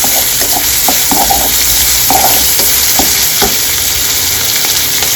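Onions and chillies frying on a medium gas flame for a lakhori curry, a loud steady sizzle with spoon scrapes and stirring taps against the pan.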